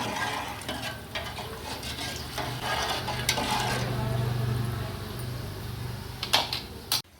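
A spoon stirs salt into cooked onions in a pot for chicken biryani, a steady close scraping over a soft sizzle, with a few metallic clinks against the pot near the end.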